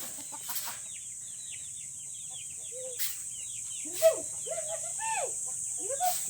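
Backyard Rhode Island Red, Black Australorp and Light Sussex chickens cluck and call in scattered bursts, with a few louder squawks near the middle and end over a soft insect hum.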